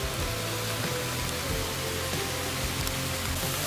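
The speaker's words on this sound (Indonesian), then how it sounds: "air terjun ya" Waterfall at a spring on Mount Tandikek at about 2300 metres, a steady broadband rush of falling water, loud and unchanging throughout with no voices.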